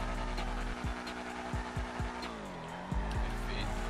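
A car in a GTA RP game, fueled with aviation gasoline, accelerating hard with a droning engine while tires squeal and skid, punctuated by short thumps, fairly faint overall.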